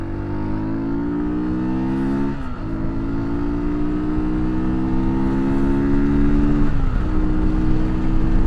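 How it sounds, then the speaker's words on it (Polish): A Junak RX ONE 125 adventure motorcycle engine drones steadily and loudly, its pitch dipping briefly twice as if through gear changes before climbing again, with no voices. "kręcicie ten silnik, to on się napędza bardzo dobrze"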